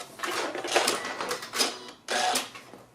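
Short bursts of a sewing machine back tacking and sewing off the end of a seam on a three-layer pleated fabric mask, close and crisp, in about three quick runs.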